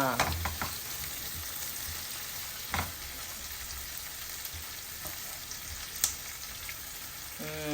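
Mint leaves frying in a pan for pudina rice, a steady soft sizzle with a few sharp spatula clicks as they are turned, no talking.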